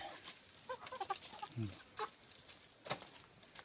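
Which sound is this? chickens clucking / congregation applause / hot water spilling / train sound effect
chickens clucking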